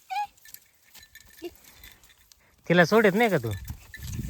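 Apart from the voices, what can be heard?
goats, Kathiawadi breed, grazing in a field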